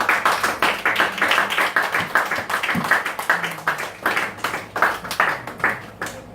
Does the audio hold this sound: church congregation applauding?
yes